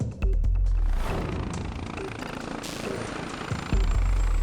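An air ambulance helicopter is heard from inside during flight, a loud, steady rotor and engine roar with rhythmic thumping that continues through the whole stretch.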